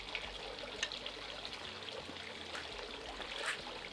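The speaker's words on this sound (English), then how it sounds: "now we're going to pour the rest of our batter on top of the raspberries until they don't show" Cake batter for a chocolate raspberry cheesecake pours over raspberries in a pan, a steady soft trickling stream that runs quietly throughout with no talking.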